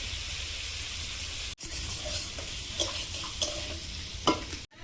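Shrimp fry lightly in a pan and are stirred, making a quiet, continuous sizzle broken by a few soft scrapes and clinks of the utensil.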